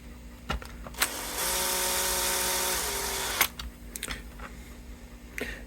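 A power drill with its torque turned down backs screws out of a vintage left-handed Gibson Les Paul guitar, giving a steady whining run of about two seconds between short clicks and handling knocks.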